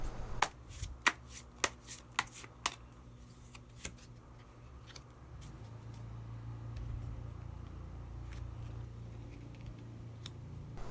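Tarot cards being shuffled and drawn, giving a run of sharp card snaps and flicks over the first half, then a steadier soft shuffling rustle with low room hum and no talk.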